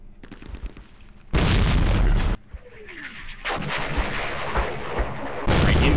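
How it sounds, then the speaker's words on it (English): Artillery fire in a war strategy video game set in a 1968 raid on Jordan: two loud, sustained barrages of booming shots, the second ending and then resuming, with quieter rumbling and whistling between them and no talk. "trying to hit us with the artillery"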